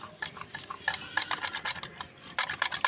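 Oil is worked into a besan batter for nimki in a bowl, producing rapid, rhythmic scraping and stirring strokes close by, with the gentle wet rasp of the mixture.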